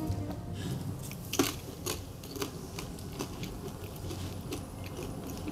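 Bites and chewing on flatbread dipped in vegan muhammara made from roasted vegetables, a few crisp crunches standing out over steady close mouth noise, with no talking.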